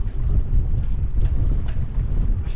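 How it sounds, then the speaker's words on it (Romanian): Strong wind blowing at sea aboard a small fishing boat trolling off the Black Sea coast, a loud continuous roar buffeting the microphone with rushing gusts and no voices. "dar văd că bate vântul foarte tare"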